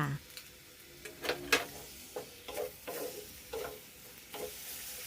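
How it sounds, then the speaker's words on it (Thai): Shanghai noodles stir-fried with seasonings and dark sweet soy sauce, the spatula scraping and clacking against the pan in repeated strokes over a steady sizzle, close and moderately loud. "แล้วก็ผัดคลุกเคล้าเครื่องปรุงค่ะ"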